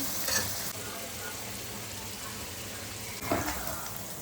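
Ginger-garlic paste frying in a pan for Andhra-style gongura chicken, giving a steady close sizzle throughout with a couple of brief stirring scrapes.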